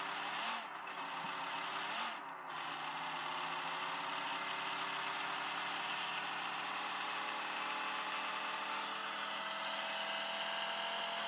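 Car engine from a racing video game on a phone, a steady droning hum at a constant pitch, with a couple of brief dips early on.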